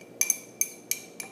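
A magnetic stir bar clinks against lab glassware during a filtration lab. Four or five light, bright glass taps sound close and faint, spaced irregularly in a quiet room.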